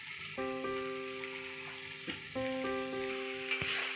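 Rice tipped into a pan of frying vegetables for veg fried rice, a steady close sizzle with a few soft stirring bumps and a faint tonal hum running underneath.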